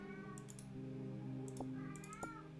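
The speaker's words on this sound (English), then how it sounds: "Yes, cat, hello." A domestic cat meows softly a couple of times over a steady musical background, with a few faint clicks scattered through, fairly quiet and with no talk.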